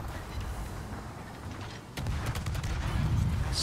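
Guns of the destroyer Khabarovsk firing in World of Warships, with a sharp report at about two seconds followed by a run of rapid shots over a rumbling naval battle backdrop.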